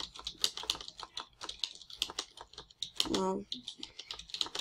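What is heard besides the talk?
typing a message on a computer keyboard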